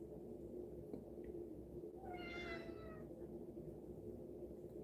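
A house cat gives a single drawn-out meow with clear harmonics, close and moderately loud over a steady indoor room hum, with no talking.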